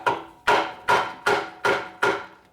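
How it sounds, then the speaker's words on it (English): Six evenly spaced, loud metallic hammer blows from a light hammer trying to knock a bearing out of a Harley five-speed transmission, each strike sharp and ringing briefly, nothing else heard. "maybe we can just knock the whole thing out with a hammer"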